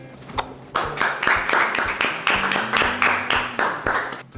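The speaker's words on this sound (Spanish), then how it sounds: "Aplausos, caramba" Clapping in a Venezuelan TV studio: an even run of distinct, fairly close hand claps from a small group keeping a steady rhythm, with tonal voices and a low musical drone underneath.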